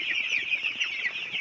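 Chickens cluck and chatter continuously nearby in a coop, with overlapping high-pitched calls and small peeps forming a busy, unbroken flock sound.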